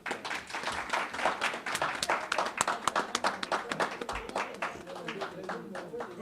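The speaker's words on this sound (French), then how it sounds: "Je souhaiterais que vous les applaudissiez." An audience applauds campaign team members at a results proclamation event, a dense run of hand claps lasting several seconds, moderately quiet, with speech mixed in.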